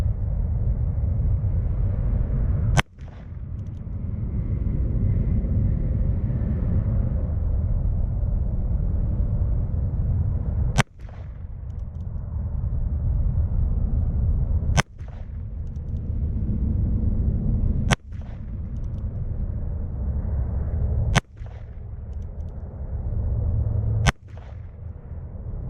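A Savage single action .22 long rifle pistol fires six sharp, loud shots at uneven intervals over about 25 seconds, each crack standing out above a steady, rumbling outdoor background.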